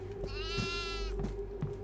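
A goat in the horror game Devour lets out one clear, wavering bleat, close and fairly loud, over a steady low hum with faint footfall-like thumps.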